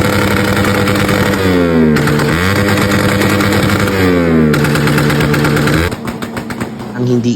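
Motorcycle engine revving repeatedly at an impromptu motor show, the bike smoking, with loud rising and falling pitch sweeps, then dropping to a rough, stuttering idle near the end, voices faintly beneath.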